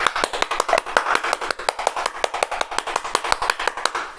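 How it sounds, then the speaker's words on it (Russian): A single pair of hands claps in a steady, fairly quick rhythm, about two dozen sharp close claps with no other sound between them. "праздничные аплодисменты"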